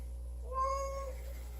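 A house cat gives a single clear, drawn-out meow in a quiet room near fish tanks, with a low steady hum underneath.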